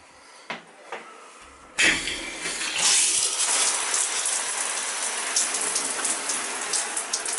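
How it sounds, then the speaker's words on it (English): Shower with a Symmons valve is turned on after a few faint clicks: water bursts out suddenly and then keeps spraying loudly and steadily, hissing with small splashes, close by and with no talking. "you want to turn on the water?"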